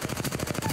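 Rapid automatic gunfire in the video game Apex Legends, a tight burst of evenly spaced shots, about a dozen in under a second, loud and close with no talk.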